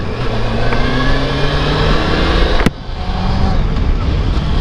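A motorcycle rides along a paved highway with a steady engine drone and heavy wind rush, a brief thump partway through, and a voice talking over the road noise.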